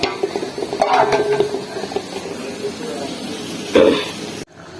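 Drumsticks and tomato go into a sizzling curry in a pan, a steady frying hiss with spoon-stirring scrapes and a louder clatter near the end, while someone talks over it.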